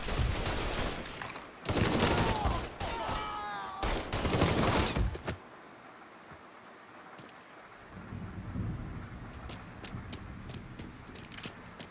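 Gunfire in the Mafia III video game erupts in two dense bursts of loud, rapid shots, followed by a quieter stretch of low rumbling ambience.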